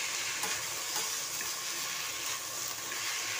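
Tomatoes roasting in a pan give a steady, moderately loud hiss and sizzle throughout, with faint occasional ticks and no voices.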